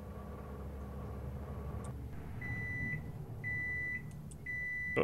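A microwave oven in the horror game The Microwave Paradox hums steadily, then gives a series of three sustained electronic beeps close up, with no talking.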